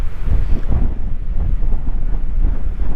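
Strong wind buffets the microphone outdoors at sunset in open New Mexico country near Capitan, a steady low roaring rumble with gusty swells throughout.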